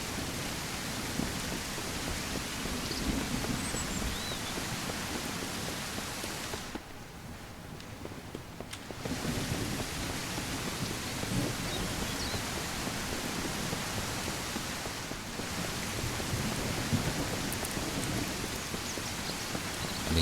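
Steady, dense rain hissing and pattering in the survival video game Mist Survival, constant and enveloping with a faint low rumble beneath, briefly dipping in volume twice before resuming at full strength.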